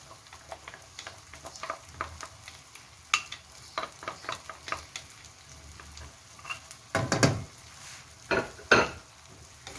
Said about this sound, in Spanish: Vamos a mezclar, a que se funda la mantequilla con la crema.